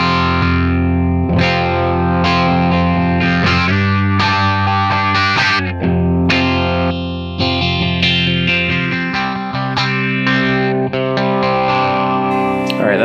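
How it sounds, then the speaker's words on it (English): An electric guitar played through a Donner mini phaser pedal rings out loud and distorted, strummed chords with a sweeping, swirling phase effect that carries on continuously and without talk. "Let's take a look at the phaser here."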